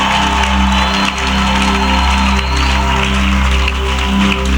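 A church congregation keeps up loud acclamations and cheering, a dense crowd roar with scattered whoops over sustained droning tones throughout.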